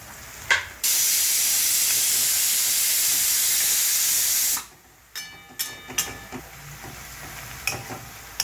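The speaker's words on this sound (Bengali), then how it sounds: "একটা সিটি হয়েছে টোটাল পাঁচটা সিটি দেবো" A pressure cooker steaming vegetables lets off one loud, sustained whistle-hiss of escaping steam lasting several seconds, then cuts off abruptly, leaving quieter kitchen clatter and small clinks afterward.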